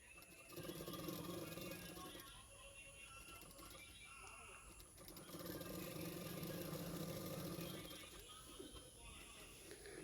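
A sewing machine runs in two long bursts as it stitches along the edges of blouse lining fabric, a steady mechanical whir with a brief pause between, fairly close and moderately loud.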